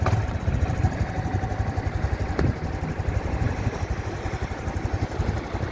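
A Honda Super Cub motorcycle engine running steadily nearby, a loud even putter with a rapid regular beat throughout and no talking.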